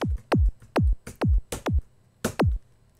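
Pitched Serum kick drum for a melodic house track, a series of punchy downward-sweeping thumps in an uneven, syncopated rhythm, played alone and fairly quiet.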